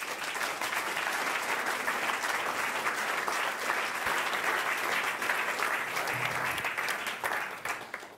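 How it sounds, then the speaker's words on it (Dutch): Hearty, sustained applause from an audience welcoming artist David Claerbout to an evening talk, a dense wash of clapping that holds steady and tapers off at the very end. "Mag ik een hartelijk applaus voor David Klaarbout?"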